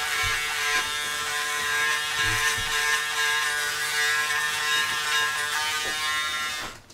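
A Braun Series 7 360 Flex electric shaver running for a quick touch-up after a wet shave, a loud steady buzzing hum held close and continuous, with slight changes as it moves over the skin.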